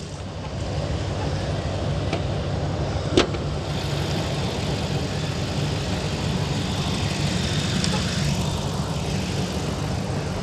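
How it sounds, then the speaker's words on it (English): A Hemi car engine idles steadily under the hood after running for about ten minutes, with a continuous low rumble, a brief sharp tick near the middle and outdoor wind in the background. "So this is Hemi. It's been running for a good 10 minutes now."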